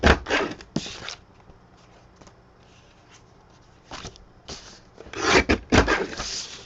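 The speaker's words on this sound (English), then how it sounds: "I'm just trimming the edges off so there's more interesting stuff in the middle." Scissors trimming the edges of thick junk-journal paper, close up, in a few rasping bursts separated by quieter pauses, with heavier cutting toward the end and no talking.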